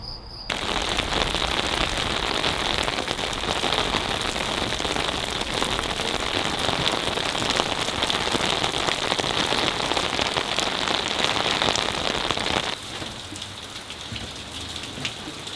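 Steady rain drums on polypropylene plastic roof sheets over an old renovated Portuguese ruin, a dense close patter that runs continuously and softens slightly near the end.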